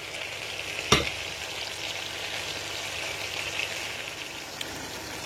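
A mafé sauce mixture of tomato, peppers, onion and garlic bubbles and sizzles steadily in a pan, with one sharp knock near the start and a soft, even crackle after it.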